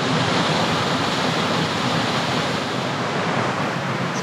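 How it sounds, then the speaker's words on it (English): Steady, dense roar of the main waterfall at Lawson in the Blue Mountains, water pouring down nearby through a rock channel, loud and continuous with no voices. "This is the main fall."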